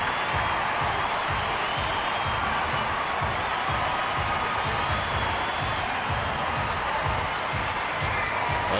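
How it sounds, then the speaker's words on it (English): A baseball stadium crowd at a Milwaukee–San Francisco game roars with steady cheering and applause after an RBI triple, a dense, continuous wash of noise under broadcast commentators talking. "The crowd's into it now."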